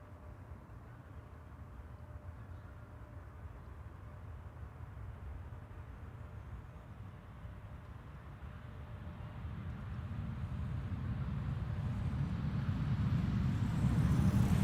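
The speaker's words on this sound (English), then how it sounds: "That's KLM flight 1042 that you heard rolling past us" A KLM Boeing 737 airliner taxis past, its low engine rumble growing steadily louder and nearer over about fifteen seconds, with no voices.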